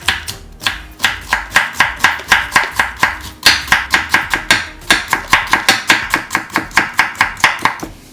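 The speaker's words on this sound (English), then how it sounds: "Cut the sliced carrots into small pieces again." A kitchen knife chops sliced carrots into small pieces on a cutting board while preparing Korean abalone porridge: loud, close, steady strikes at about three per second, with a brief pause partway through and no talking.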